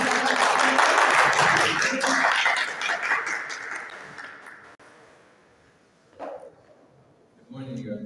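An audience at a food-can industry roundtable in Dubai applauds in a dense burst of clapping that gradually fades, followed by a brief pause and a few isolated sounds and scattered claps.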